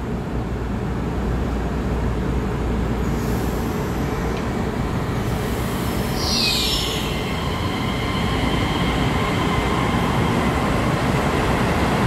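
A red-banded twelve-car EMU3000 intercity express train, set EMU3013 running on Taiwan's mountain line, rumbles steadily past close by with a loud, constant roar and a brief high wheel squeal partway through, with no talking.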